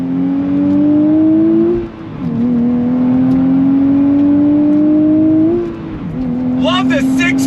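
A 2023 Nissan Z Performance with a six-speed manual pulling hard on throttle, its engine note climbing loudly through two gears with a brief dip at each shift, followed by a short burst of higher noise at the end.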